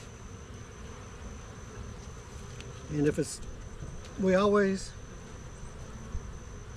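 Honey bees buzz around a hive during an October inspection, with a soft steady hum and a few louder passes close by, while someone talks.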